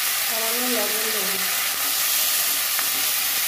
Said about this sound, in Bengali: লবণ দিয়ে নিম পাতা ভেজে।